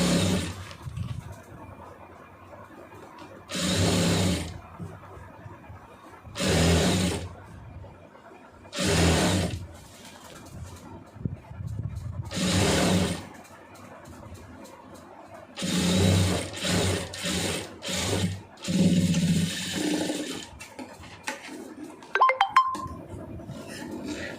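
A sewing machine stitches the lining cloth of a chudidar in repeated bursts of steady whirring, each lasting a second or two and separated by pauses, then a longer run of short stop-start bursts near the end.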